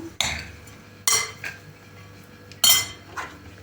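A spoon clinks and scrapes against a bowl in a few separate bursts while a radish and crab stick salad is mixed, close by with quiet pauses between.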